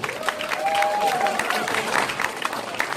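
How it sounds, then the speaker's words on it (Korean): Audience applause at an outdoor civic gathering in Gumi for chairman Choi Myeong-sik; a steady wash of clapping from a crowd, moderately loud, with a faint tone and murmur underneath. "우리 최명식 회장님 한번 박수 한번 쳐드리십시오"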